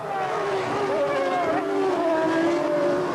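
Formula One cars roaring off the grid at a 2000 season race start, loud whining engines rising and shifting in pitch as they pull away.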